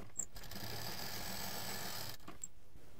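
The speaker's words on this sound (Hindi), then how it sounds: "यहाँ पर डबल मशीन चलाएंगे।" A sewing machine runs steadily, stitching a fabric lining piece for a patchwork shopping bag. It gives a close, continuous whir for about three seconds with no talking.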